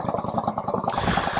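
A 2005 Yamaha V-Star 650 cruiser idles close by with a steady, even low thumping pulse, heard alone for a brief moment.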